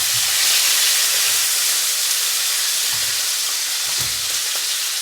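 Barramundi fillet sizzles and spits in a hot frying pan beside asparagus, a dense steady crackle of frying with a few soft low bumps from the pan, close and alone without speech.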